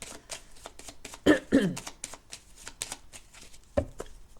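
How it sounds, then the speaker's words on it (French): Tarot cards shuffled by hand nearby make a series of papery riffling and flicking sounds in an uneven rhythm, with a few louder slaps standing out. "Pour l'instant je bats mes cartes."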